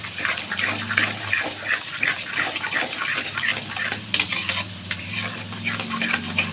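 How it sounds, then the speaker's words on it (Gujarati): Sugar being stirred in a pan over low heat for Mumbai halwa, a continuous scraping and swishing with uneven rhythmic strokes, close up and with no talk. "એકદમ હલાવીએ એટલે ખાંડ ઓગળી જાય"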